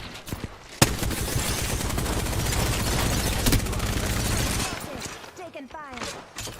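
Sustained automatic gunfire in a video game, dense rapid bursts after a sharp opening shot, then tapering off into scattered sounds, with a voice talking over parts of it.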